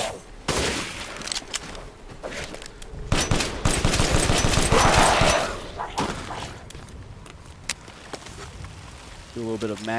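Repeated gunfire in the video game Resident Evil Village as a whole magazine is emptied: dense, rapid shots in a sustained volley with a loud, roaring mix, then a quieter tail with a few isolated bangs.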